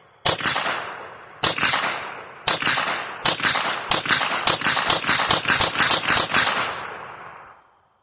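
A Smith & Wesson M&P 22 Magnum pistol fires a string of loud, close, sharp cracks. A few shots come spaced apart, then a fast run of rapid shots follows, each with a short ringing tail, and no one talks.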